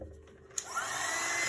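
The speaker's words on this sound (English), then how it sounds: "I decided that I was going to try and help it to dry with a hot air gun" A hot air gun starts up and blows on a resin miniature, a sharp click followed by a rising steady whooshing roar that stays loud and constant.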